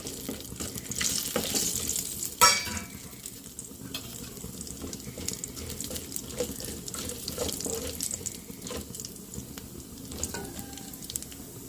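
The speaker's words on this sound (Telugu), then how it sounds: "ఆయిల్ అయితే బాగా హీట్ అయ్యింది కదా పచ్చెనపప్పు అనో మినపప్పు వేసుకున్నాం వేయించుకున్నాం" Chana dal and urad dal frying in hot oil, a steady soft sizzle with faint stirring and occasional light clinks, continuous and fairly quiet throughout.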